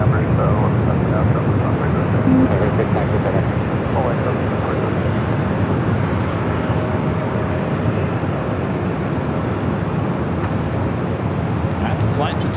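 A jet airliner bound for Tokyo Narita rolls down runway 24 Left at LAX. A loud, broad, continuous engine roar holds steady throughout, with a voice talking over it.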